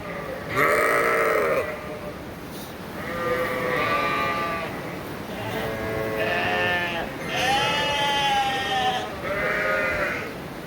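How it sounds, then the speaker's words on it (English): A ewe bleats loudly several times, long wavering calls separated by short pauses, close to the listener with quiet background between cries. "Female sheep. This is not a massive animal."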